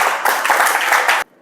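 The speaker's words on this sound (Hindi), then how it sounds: "विपिन जी के लिए ताली बजा दो" An audience claps for Vipin ji at a spiritual gathering: a dense burst of many hands applauding together, close and loud, then cutting off abruptly.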